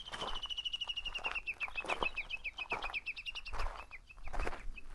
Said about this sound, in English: There's a bird here. It's making a one-of-a-kind sound I've ever heard.